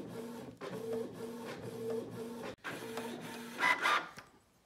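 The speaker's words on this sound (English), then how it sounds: "So right now we just keep printing until we get the color cartridge ready to reset." A Canon PIXMA TS3122 inkjet printer runs through a page, its carriage whirring back and forth in rhythmic repeated passes, then a louder paper-feed rattle before stopping into quiet.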